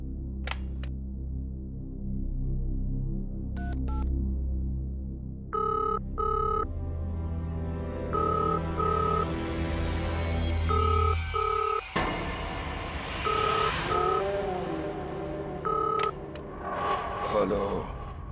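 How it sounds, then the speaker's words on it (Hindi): A telephone rings repeatedly in short bursts while someone calls reception, set among low droning background tones and a sudden louder noisy stretch partway through. "रिसेप्शन पे फोन करता हूँ, कोई तो होगा वहां।"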